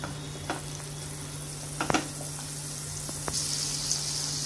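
Butter heating in a pan, a low steady sizzle with a few sharp pops and crackles, close and quiet under a constant background hum.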